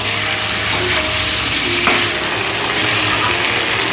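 Red mutton curry fries in a pan while being stirred, giving a loud, continuous, close sizzle with scattered light scraping clicks throughout and no talking.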